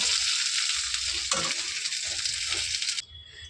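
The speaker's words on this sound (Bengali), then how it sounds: "দেখো এদিকে আমি লঙ্কা চিড়ে দিয়ে দিয়েছি, কিছুক্ষণ ভেজে নিয়ে" Slit green chillies fry in oil in a pan for a Bengali fish curry, giving a loud, close, continuous sizzle with a few stirring scrapes, before it cuts to quieter background.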